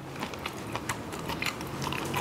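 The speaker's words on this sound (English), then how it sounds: "when I first bite into the crab, there's a burst of sweetness from the crab" Fried soft shell crab crunches under a few crisp bites, with short crackly bursts followed by soft chewing, close up and with no speech.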